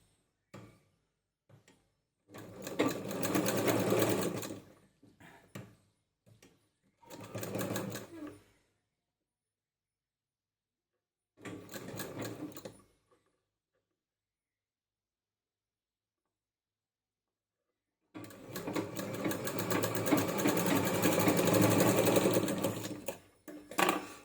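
A sewing machine stitches the two ends of a tulip-design rubber band together, running in several short rapid bursts separated by silent pauses, the last run longest.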